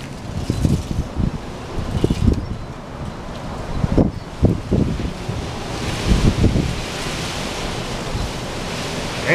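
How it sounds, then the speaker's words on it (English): Strong wind blows outdoors and buffets the microphone, making a continuous rough roar with gusty low thumps that swell and fade throughout. "it's windy as fuck out here"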